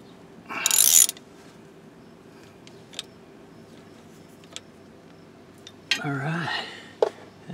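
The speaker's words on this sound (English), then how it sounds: "let's put this drain plug in and see if it works." Drain plug threaded into a Ford PTU: a loud ratcheting burst, a few faint metallic ticks, then another rasping ratchet run near the end, close by with little else around.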